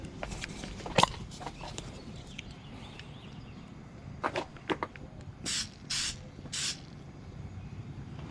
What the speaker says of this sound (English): I'm going to go ahead and spray the meat